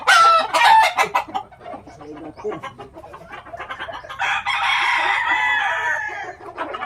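Chickens and roosters at a gamefarm cluck and crow, with a rooster's long crow standing out in the second half; nearby and fairly loud over faint background voices.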